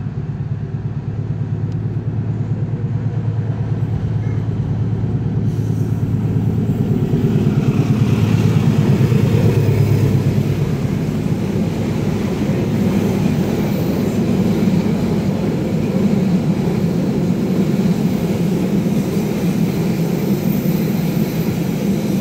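A loud, rumbling passenger train, the Malabar in Indonesia, passes close by, a heavy continuous roar that builds and swells with rattling wheels on track, no voices.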